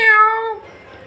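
A single close, loud cat meow, clear and tonal, falling away after about half a second into quiet.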